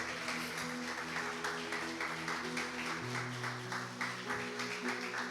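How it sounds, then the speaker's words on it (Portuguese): A church congregation applauding for Jesus, a dense sustained wash of clapping over droning organ or keyboard chords, moderately distant. "Quem crê, dá uma salva de palmas a Jesus."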